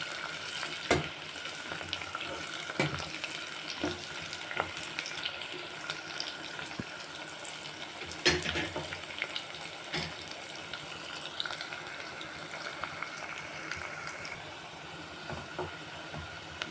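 Chopped onions for wheat rava upma fry in a pan until light golden, giving a steady soft sizzle with faint scattered clicks and stirring scrapes throughout. Nobody talks.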